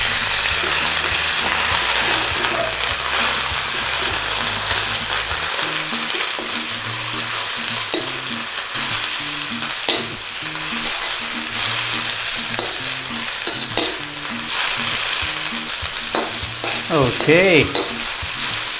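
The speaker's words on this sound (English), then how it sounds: "in with our cabbage. Give it a quick stir around. And what we need to do is go in with just a little touch of water." Cabbage stir-fried in a hot pan for a Thai fish-sauce dish, loud and close: steady sizzling and frying, then a burst of hissing steam when a splash of water goes in, with stirring scrapes and one brief spoken word.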